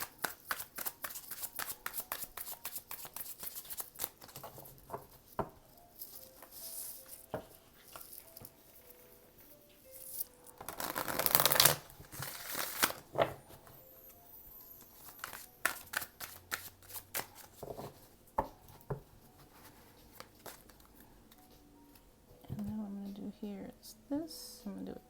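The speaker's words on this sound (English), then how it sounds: "give that a nice good shuffle." A deck of cards is shuffled repeatedly, with rapid riffling bursts and soft pats and slides between them, close by and fairly quiet.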